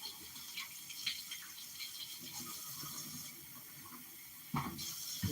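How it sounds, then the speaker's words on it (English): Warm water pours into doughnut dough in a home kitchen, a steady, soft splashing hiss that runs throughout with a few brief louder bumps and no talking. "I'm going to just go ahead on and add a little bit of water"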